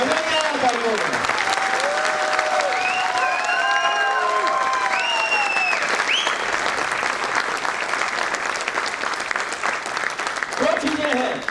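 Audience applause at a Hippo Corporation sales training program, a steady dense wash of clapping across the whole stretch, with a voice or musical tones rising over it early on.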